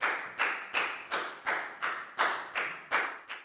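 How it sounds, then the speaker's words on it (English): Around nine sharp claps land in a steady, even rhythm in a primary classroom. They sound fairly close but quiet, like a single pair of hands or a few together, with no voices over them. "High five and a big round of applause for Lak Gao, please, guys."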